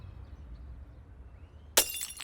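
A glass bottle drops and shatters in a single sharp crash with a brief scatter of fragments, loud and close after a quiet room-tone lead-in.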